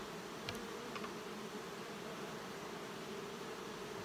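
Honeybees drone steadily inside a hive that may be swarming, a low continuous buzz holding level throughout with a couple of faint brief clicks near the start and no voices.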